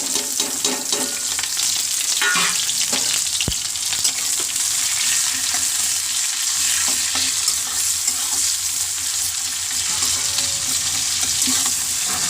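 Onion, green chili and cumin frying in hot oil in a heated kadai: a continuous close hiss and crackle of sizzling with scattered pops and occasional stirring scrapes, no talk.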